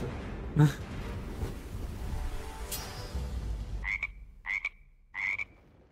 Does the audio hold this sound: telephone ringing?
no